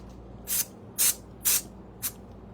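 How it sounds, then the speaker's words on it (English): Adhesive is sprayed onto the back shoulder panel of a flannel shirt before foiling: four short, close hissing bursts from a spray can, evenly spaced, the last one briefer than the others. "I'm going to try and just do a quick little extra spray there"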